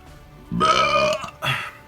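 A single loud, close burp after drinking an IPA beer, drawn out for about a second and followed by a short second belch.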